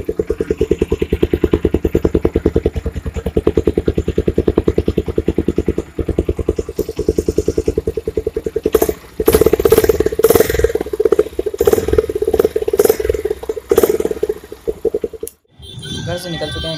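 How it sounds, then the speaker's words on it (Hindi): A motorcycle engine running on Motul fully synthetic oil after 10,000 km idles with a rapid, even thumping, then revs up louder with rattling and clatter before cutting out abruptly near the end. "मैं अपनी बाइक उठाता हूं और चलते हैं लेके सर्विस कराने"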